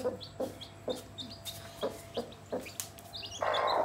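A hen with newly hatched chicks gives a close, rhythmic series of short clucks, with thin high chirps between them and no voices.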